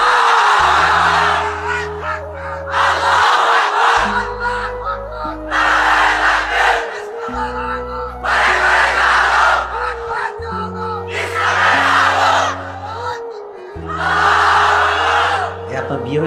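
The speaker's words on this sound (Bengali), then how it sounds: "তুমি আরেকবার তাকবীর দাও" A crowd at an Islamic sermon gathering shouts takbir in loud, unified bursts, repeated roughly every few seconds. Each massed roar is answered by amplified voices and rises and falls in a steady call-and-response rhythm.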